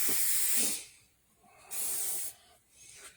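Airbrush blowing air over thin foam latex hand appliances, heard as two close, loud hissing bursts with a short quiet gap and a faint trailing puff.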